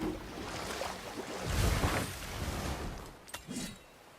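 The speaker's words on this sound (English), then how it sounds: "I've never seen a waterfall so big." In the God of War game, a huge waterfall gives a broad, steady rushing wash that swells briefly in the middle and runs on without pause, with no voices.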